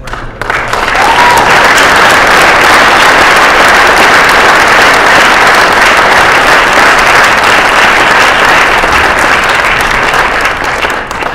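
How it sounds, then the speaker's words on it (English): A large ceremony audience at a Founder's Day event gives faculty and staff a loud, sustained round of applause, dense clapping continuing unbroken throughout. "I think we should give our faculty and staff members a great round of applause"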